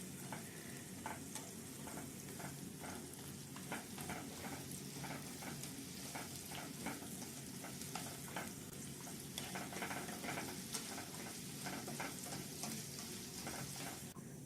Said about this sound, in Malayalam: ചെറിയ സ്മോൾ പീസസ് ആയിട്ട് അരിഞ്ഞു വെച്ചേക്കുന്ന തേങ്ങ ആയിട്ട് നല്ലോണം വറുത്തെടുക്കുക.